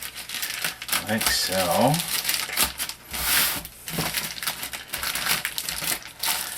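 A razor blade slicing through the plastic wrapping on a 1:10 scale RTR 4WD monster truck package, heard as close crinkling and crackling of plastic with sharp scratchy bursts, a voice speaking over it.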